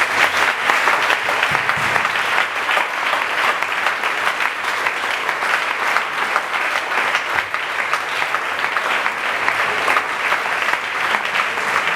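A church congregation applauds at a deliverance service, with dense, continuous clapping that holds at an even level throughout and no talk.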